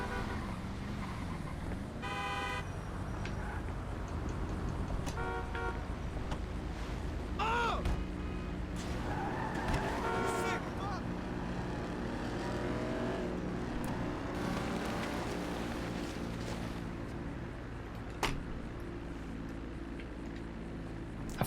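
A car drives on a road amid traffic, with continuous engine and tyre noise, vehicles swelling past and a brief horn toot or two, while a voice speaks faintly in the background.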